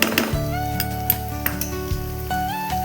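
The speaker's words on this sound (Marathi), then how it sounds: "हे टाकल्यानंतर मग आपल्याला छान असं हे परतून घ्यायचं आहे" Ivy gourd sautéing with turmeric and red chilli powder in a pan, a steady close sizzle under repeated scraping stirs and a few metallic clinks of the spatula against the pan.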